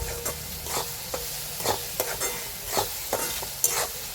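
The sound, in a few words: stirring and roasting onion tomato masala in a pan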